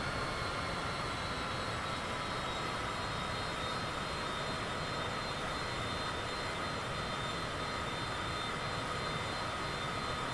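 A Citation CJ4 private jet's engines in Microsoft Flight Simulator 2024 on PS5 make a steady, continuous roar that stays even and unbroken for the whole stretch, with no talking.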